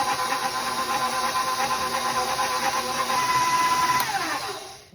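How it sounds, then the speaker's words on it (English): A stand mixer creams butter and sugar at medium speed, its motor giving a loud, steady whir with a rhythmic beater pulse that holds for several seconds, then winds down as it switches off. "Let's turn our mixer on to medium speed."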